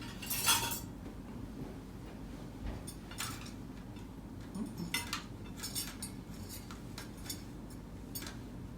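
A fork and knife set down on a table setting, with a few soft clinks against a quiet room hum, one brighter clink near the start and light scattered taps afterward, no talking.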